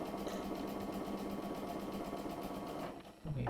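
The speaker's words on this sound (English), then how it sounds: "now I'm sewing 1/4 inch" A sewing machine runs steadily while stitching a quilt star block a quarter inch from a drawn diagonal line, a continuous close whir that stops near the end.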